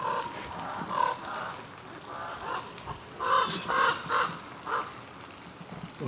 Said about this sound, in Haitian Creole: ça c'est crow.